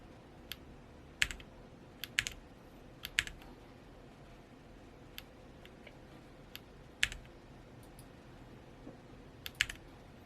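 Typing on an RK Royal Kludge M75 mechanical keyboard produces scattered, irregular clusters of crisp key clicks over a faint steady background, close to the listener with no talking.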